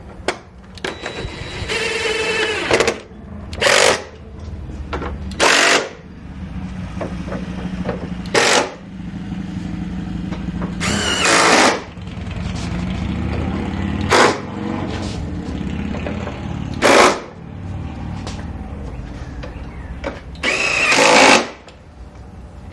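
Bolts on a 2021 Polaris RZR 1000 XP third brake light mount being tightened with a power tool, sounding as a series of short, loud bursts separated by brief pauses, with no talking.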